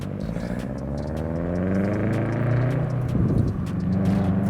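A 2022 Subaru BRZ fitted with a Tomei UEL header and Tomei Expreme Ti 80R titanium exhaust drives along, its loud, rumbling engine note rising and falling steadily from inside the car, with no talking.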